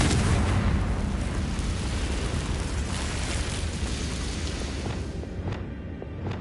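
A booming Confringo fire spell blast in Hogwarts Legacy, a heavy rumbling explosion that starts loud and slowly fades over several seconds with no speech.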